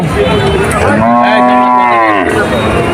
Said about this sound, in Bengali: আচ্ছা, আজকে দেখে এটা একটা গাই গরু।